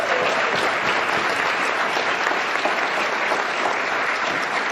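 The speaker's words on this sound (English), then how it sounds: "Let's give a round of applause to NVIT for their work." A crowd at a public announcement on Indigenous-led community supports breaks into applause, a loud, dense, continuous clapping that stays close and steady throughout with no speech over it.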